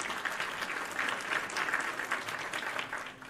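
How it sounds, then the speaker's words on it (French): Dense applause from a crowd greets the awarding of a golden griffin scarf, a steady wash of clapping that holds at an even level and fades slightly at the end. "sous vos applaudissements"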